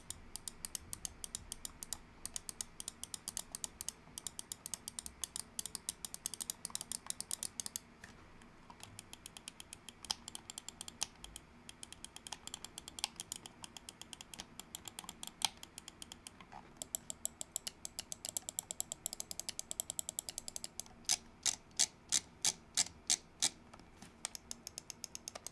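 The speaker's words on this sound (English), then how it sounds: "let's drop a sound test of this mouse" Button clicks of a Pwnage Ultra Custom Symmetrical gaming mouse, a long series of sharp, close clicks in steady bursts, some rapid and some spaced, with no talking.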